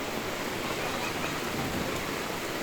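Heavy rain pours down steadily over flooded neighbourhoods in Shivamogga, a dense, continuous hiss with no break or pause, moderately loud and with no voices over it.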